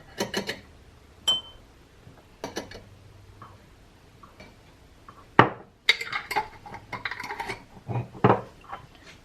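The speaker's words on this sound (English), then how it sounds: "That's why I'm using a fork before I put it in the jar" A fork lifts cloves of pickled garlic into a glass jar: sparse, light clicks and taps of metal on glass, building into a quicker cluster of clinks toward the end.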